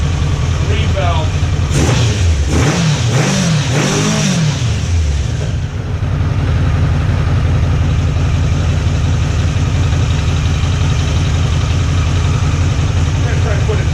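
A car engine revs, then settles into a loud, steady idle hum that runs on alone after a few rising and falling revs early on, with someone speaking briefly over it.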